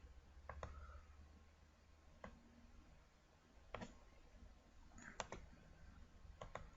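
Computer mouse clicking, faint and close, in a handful of sparse single and double clicks spread unevenly across a quiet room.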